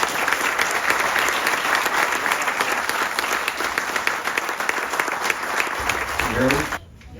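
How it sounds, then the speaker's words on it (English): An outdoor audience gives a sustained round of applause at a school soccer field rededication ceremony, with steady, dense clapping that stops abruptly near the end. "I ask you to join me in a round of applause for all that he has done for us."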